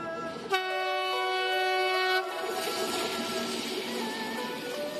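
A passenger train horn on the China-Laos Railway blares for a couple of seconds, then the steady rolling roar of the moving train continues alone.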